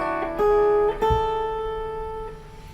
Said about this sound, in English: Here's the sound of the major scale,